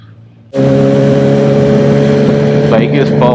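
Loud, close engine of a Yamaha R1 motorcycle at high speed on an Australian road, starting abruptly and holding a strong steady tone with layered harmonics and wind rush, a brief rising whine near the end.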